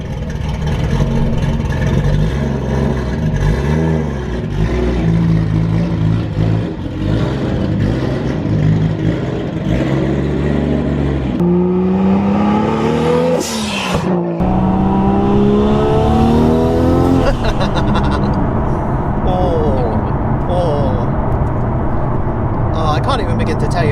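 A Nissan R34 GTR V-Spec is driven with its engine running the whole time. Several sharp rev climbs and gear changes rise and fall, with one loud surge near the middle. A person talks over it at times.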